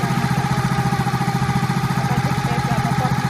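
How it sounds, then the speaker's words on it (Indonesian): A motorcycle engine runs at a steady, loud idle, its low rhythmic throb pulsing evenly throughout without changes in speed. "sepeda motor"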